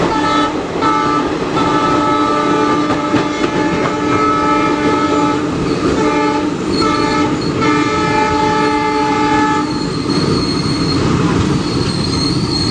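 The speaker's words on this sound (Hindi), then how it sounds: "बगहा स्टेशन पे हमारी ट्रेन गरीब रथ एक्सप्रेस को क्रॉस करते" A passenger train passing the Garib Rath Express at Bagaha station gives a loud, sustained horn blast over steady rumbling and squealing wheels, close by and continuous throughout.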